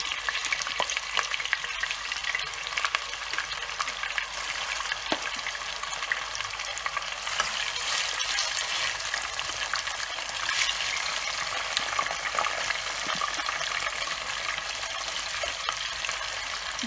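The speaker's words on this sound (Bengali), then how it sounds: "এখন আমি মাছগুলাকে তেলে দিয়ে দেবো এবং খুব হালকা করে ভেজে তুলে ফেলবো" Murray cod pieces frying in hot oil, a dense, steady sizzle with crackling pops that continues without a break, close and moderately quiet, with no voices.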